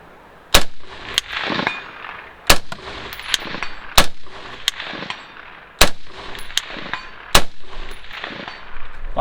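A Bushmaster ACR DMR rifle fires Hornady Black 5.56 rounds on an outdoor long-range course, a series of loud, sharp cracks in quick succession, each trailed by a rolling echo.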